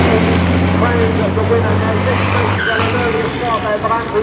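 CVRT Scorpion armoured vehicles racing through the gears at a demonstration: a loud engine drone holds, then drops and shifts as a gear changes, with a commentator talking over it.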